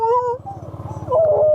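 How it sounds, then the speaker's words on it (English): A dog whimpers and howls up close, rising wavering tones over the steady low putter of an idling Yamaha C3 scooter. "You gonna howl for me?"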